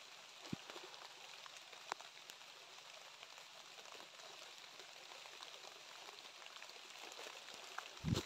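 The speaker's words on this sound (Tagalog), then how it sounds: "Lakas ng ulan." Heavy rain falling as a steady, fairly faint hiss of drops, with a few soft knocks mixed in.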